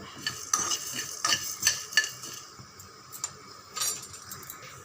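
White sesame seeds roasting in a hot pan with the stove switched off, giving soft crackling and sizzling with repeated light scraping and stirring taps of a utensil against the pan, close and steady.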